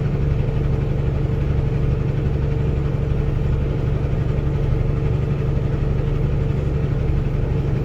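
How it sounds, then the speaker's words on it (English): Big truck engine of almost 900 cubic inches, fully loaded, running with a deep steady low rumble, loud and unbroken, climbing Parleys Canyon on Interstate 80 East near Salt Lake City. "big boy engine, almost 900 cubes"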